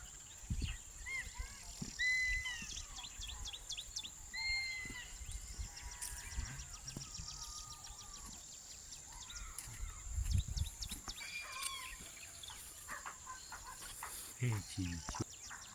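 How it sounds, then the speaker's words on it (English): Ibis and other birds calling outdoors in nature, scattered chirps and squawks at moderate distance over a steady insect hum, with occasional rustling and a voice. "Beautiful sounds of the Ibis and other birds."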